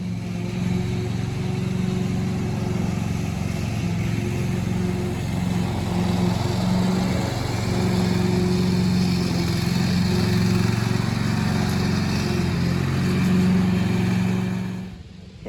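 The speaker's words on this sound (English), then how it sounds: "away from the noisy lawnmower" A noisy lawnmower runs outdoors as a steady, continuous engine drone that holds at an even level throughout, with no voices over it.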